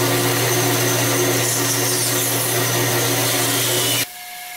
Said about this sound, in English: I'm going to bring it to the bandsaw and chop some of these wild branches out of the way